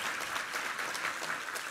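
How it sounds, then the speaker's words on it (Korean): A church congregation claps in thanks after a Korean sermon reading, a soft, even patter of many hands heard from a distance at low level. "우리 하나님께 감사와 영광의 박수 올려드리겠습니다"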